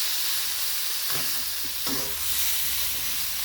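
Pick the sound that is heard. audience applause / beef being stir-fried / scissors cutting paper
beef being stir-fried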